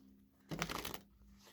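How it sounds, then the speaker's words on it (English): Deck of tarot cards shuffled in one brisk half-second riffle, close and moderately loud over a quiet room hum. "One more shuffle."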